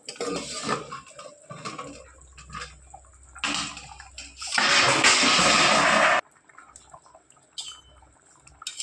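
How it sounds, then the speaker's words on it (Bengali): A metal lid lifts off a pot of Gobindobhog rice and moong dal cooking for khichuri: several close clinks and clatters, a loud rushing hiss lasting a couple of seconds, then a few lighter taps. "এবার ঢাকনিটা তুলে দেখে নেব।"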